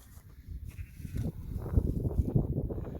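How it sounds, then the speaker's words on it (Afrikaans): A flock of Meatmaster and red crossbred sheep bleats and shuffles close by, a dense run of overlapping rough calls and hoof movement that builds toward the end. "Skaap is oor die algemeen tropgebonde."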